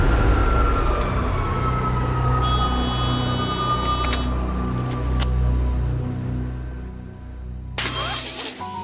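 A Rolls-Royce Trent jet engine runs at max conditions on a test bed: a loud, continuous, dense roar with a deep rumble and tonal whine, followed by a sudden sharp crash-like burst near the end, and no talk.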